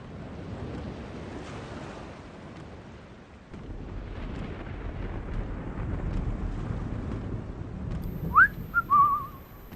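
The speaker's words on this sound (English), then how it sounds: "The storm is closing in." Stormy wind and crashing surf swell steadily in The Longest Journey game scene, a rushing broadband roar that grows louder partway through, with a brief high whistling tone near the end.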